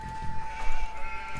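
Sheep in Age of Empires II bleat a few times in short, close bursts over a faint game background with a steady tone.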